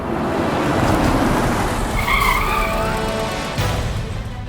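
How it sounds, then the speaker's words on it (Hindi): A car pulls up with its tires skidding and squealing, a loud, continuous rush of engine and tire noise that peaks midway and tails off near the end. "कोई गाड़ी आई?"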